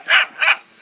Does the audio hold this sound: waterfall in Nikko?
no